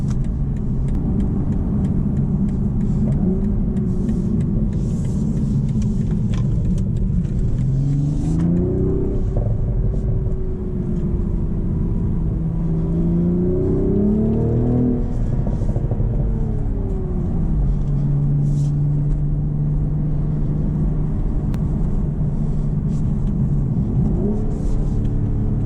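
A manual 2025 BMW Z4 M40i climbs a hill and accelerates onto a highway, its engine drone rising and falling through gear changes under steady road rumble, heard from inside the car.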